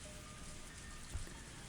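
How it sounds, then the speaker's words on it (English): Heavy rain drums steadily on the roof of a car, a dense, even wash of drops with a faint low thump partway through, no voices. "big raindrops hit the roof of the car, and I recovered my senses. It was still raining hard."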